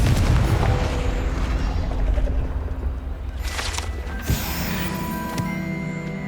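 Confringo fire spell blasts in the Hogwarts Legacy video game, a loud, dense, rumbling explosion with crackling debris that fades into ringing tones, without any speech.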